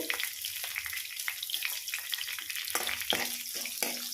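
Two large green chillies dropped into hot oil in a pan, a quiet crackling sizzle with light stirring clicks and scrapes, faint and close with no talk.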